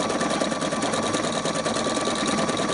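A sewing machine stitches a zipper into a bracelet with decorative embroidery thread, running as a steady, fast, close mechanical whir without pause.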